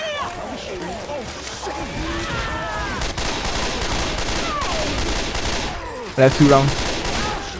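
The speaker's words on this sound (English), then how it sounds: "Oh, I had to shoot the zombie behind." Gunfire shooting a zombie in the Left 4 Dead 2 video game, rapid shots forming a dense, steady barrage amid chaotic game noise while players talk over it.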